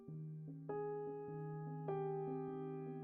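A sustained piano-like keyboard note with heightened soundboard resonance rings out, with a second chord struck partway through, both holding a long, even, bright sustain.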